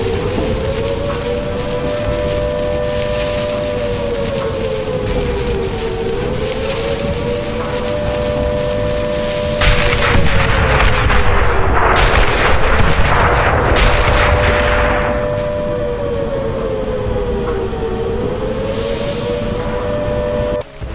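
A dynamite explosion in a video game arrives as a loud, broad rumbling blast lasting several seconds. It rises out of a continuous droning, wavering musical tone and then fades back into that drone.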